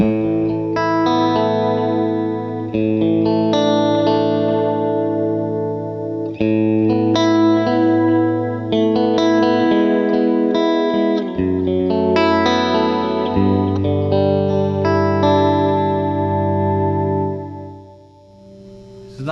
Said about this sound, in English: nice little chorus in there, and it's really nice kind of analog reverb that's going on.